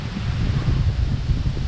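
Outdoor wind while fishing for shrimp buffets the microphone in a steady low rumble with rustling gusts, loud and continuous throughout.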